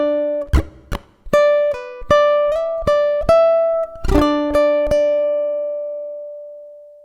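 Ukulele plucked note by note through two measures of a song, crisp individual plucks at an even pace, the last note ringing out and fading alone.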